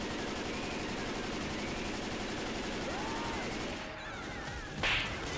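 Rapid gunfire rattles continuously in Left 4 Dead 2 as a player opens up on a witch with a shotgun, a dense stream of shots over game noise ending in a brief louder burst.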